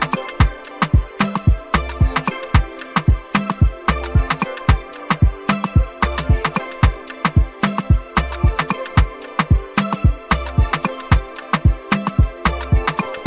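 A dreamy synth part sits inside an Afropop highlife beat, steady and busy, carried over a punchy, regular drum pattern with dense percussive hits throughout, loud and upfront with no voices.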